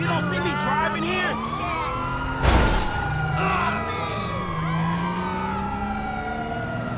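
Police car siren in the GTA V video game, wailing continuously through the whole stretch with engine noise and a sharp crash-like burst midway, while someone talks over it.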